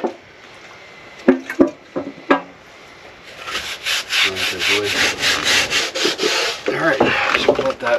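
A sailboat bulwark's mating surface is cleaned by hand, with a few sharp knocks and brief strokes followed by a run of rapid, close, rhythmic rubbing and scrubbing strokes.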